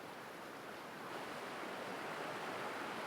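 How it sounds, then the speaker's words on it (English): A fast-flowing steep river rushes in a continuous, dense roar of water, steady and full with no breaks, heard fairly close and alone without voices. "This water is moving very quickly. This is a steep river"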